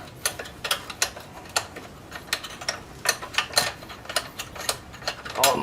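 Ratchet wrench tightening a bolt on the aftermarket M4 exhaust of a Kawasaki Ninja 636, a close run of quick clicking bursts in uneven short strokes, fairly quiet and alone.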